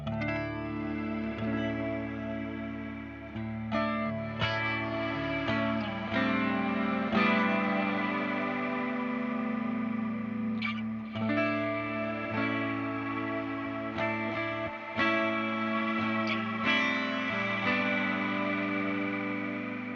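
An electric guitar runs through an Eventide H90 worm delay, with plucked notes and chords swelling into warbling, modulated repeats and a chorused, distorted wash that rings on between phrases, moderately loud and alone without any talk.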